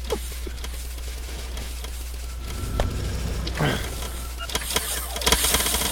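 A vehicle engine cranks and starts up in the video game Factorio, a rough mid-pitched engine rumble rising over steady game background noise, with a brief voice partway through.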